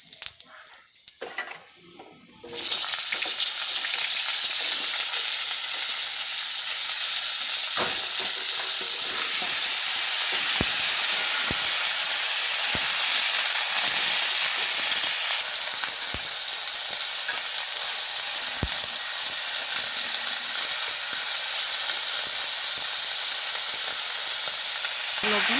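Potatoes and cauliflower fry in hot oil in a wok with bay leaves and cumin, a loud, steady sizzle that bursts in after a brief quiet start and carries on without pause, with occasional stirring knocks.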